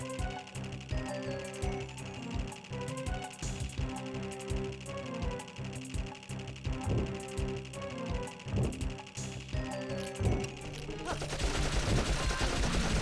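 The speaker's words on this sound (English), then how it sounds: "Yeah, so we can just hold down the button. It's a machine gun." Rapid machine-gun fire from the video game Dark Cloud, sustained bursts of clattering shots with game music underneath, ending in a dense flurry of impacts near the end.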